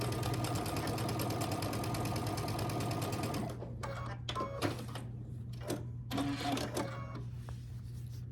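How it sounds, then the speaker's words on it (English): A sewing machine stitches a quilt block seam, running steadily for about three seconds up close, then stopping, followed by scattered light clicks and handling noises. "put it right sides together right here, and sew it down that side at 1/4 inch"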